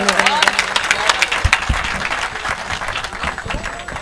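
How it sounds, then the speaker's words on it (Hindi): An audience at a Hindi poetry recital claps for a poet, a dense, steady burst of applause from a crowd, with a voice speaking over it. "जितनी प्रतिभाएं छुपी हुई हैं उन सब के लिए तालियों का एक महोत्सव होना चाहिए"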